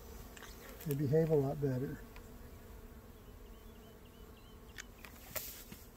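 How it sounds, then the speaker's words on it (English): Honey bees in a cutout hive buzz in a close, continuous drone, briefly overlaid by a person speaking, then settle into a steady, lower hum with occasional small knocks. "these bees are a little bit hyper anyway"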